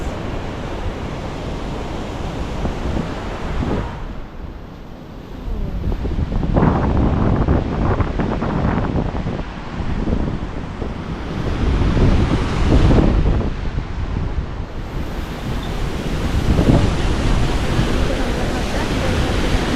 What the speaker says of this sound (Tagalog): So this is the back part of the Crescent Falls.